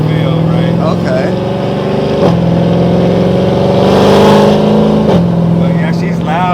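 An 1100 hp Jeep Trackhawk built by Overkill Performance runs loud and close with a steady, throaty drone that shifts pitch slightly a few times, while people talk over it.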